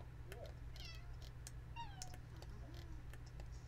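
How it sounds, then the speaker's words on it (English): A cat meows repeatedly in The Sims 4 Cottage Living, several short rising and falling calls over a steady low background hum, with a person talking intermittently nearby. "That cat's going crazy."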